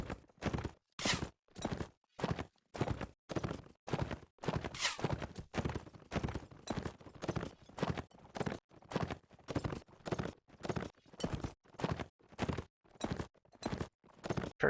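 Horse hooves in a medieval video game battle drum in a steady run of sharp, evenly spaced beats, loud and close, continuing without letup from start to finish.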